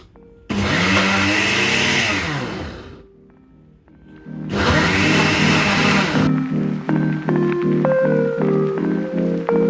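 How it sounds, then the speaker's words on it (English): Two loud bursts of a blender motor whirring at high speed while blending green seasoning, each lasting a couple of seconds, separated by a brief pause with a lower hum continuing afterward. "Kudos to my powerful blender"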